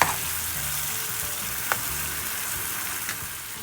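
Chicken tikka masala frying in a pan on high flame, a steady hiss and sizzle with a couple of soft stirring scrapes, no voices.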